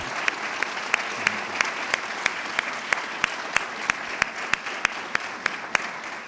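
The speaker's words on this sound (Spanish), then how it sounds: "les pido de inmediato un caluroso aplauso para que se sientan en casa" An audience at an investigative journalism forum gives a warm round of applause to welcome guests, a dense, sustained clapping wash dotted with sharp, evenly spaced individual claps.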